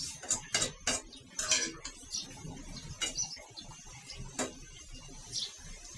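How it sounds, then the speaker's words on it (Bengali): A spoon scrapes and clinks in a pan while fish curry with potatoes is stirred, making sharp scattered metallic knocks. Faint birdsong sounds in the background of a quiet room. "আমি এগুলো নেড়ে চেড়ে দিব।"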